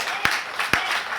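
Congregation applauding in a church service, a short burst of dense clapping with a couple of sharper hand-claps standing out, fairly close and steady.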